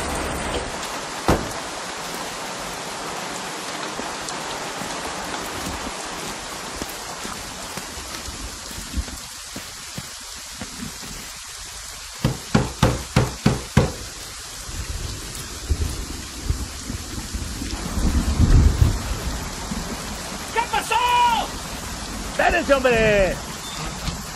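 A heavy rainstorm with thunder catches road repair workers outdoors, a continuous wash of rain with low rumbling and several sharp bursts in the second half, while voices speak intermittently.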